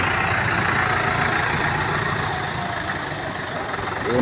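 A tractor engine idles steadily nearby with a low, constant rumble, easing slightly in the middle before swelling again.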